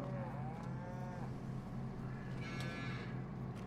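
Cattle mooing inside a barn on a farm, two drawn-out low moos rising over a steady mechanical hum, fairly close and alone without talk.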